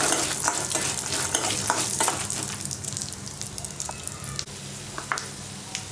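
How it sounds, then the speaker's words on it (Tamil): Poha chivda with roasted gram, peanuts, cashews and almonds being stirred in a hot frying pan: a continuous sizzle broken by repeated scraping strokes of the spoon, loud at first and easing slightly later. "நல்லா கலக்கி விடுங்க."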